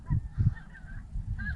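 Snow geese honking during a spring hunt in southwest Iowa, a flock calling repeatedly at a moderate distance with overlapping honks.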